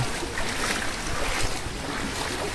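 Flood water rushes through village streets at night, a steady, loud broadband wash of churning, sloshing water with wind buffeting the microphone and no pauses throughout.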